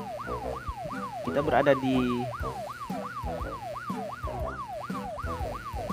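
A Minecraft ambulance siren wails in a steady rising-and-falling cycle throughout, loud and continuous, while someone talks over it partway through.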